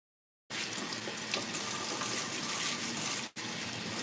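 Water runs from a tap for washing during garden work, starting suddenly after a short silence as a loud, steady close gush with one brief break near the end.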